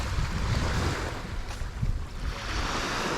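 Surf rolls onto the quiet beach at Pantai Mahbang, Jepara, a close, continuous wash of breaking water. Heavy wind buffets the microphone throughout.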